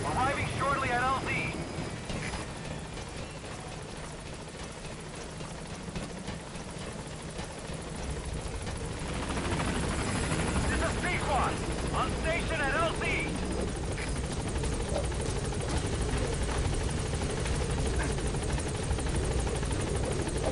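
Helicopter flying in toward a landing zone in the video game Metal Gear Solid V: The Phantom Pain, a steady rotor drone that swells louder partway through, with radio-style voices talking over it and a few game effect blips.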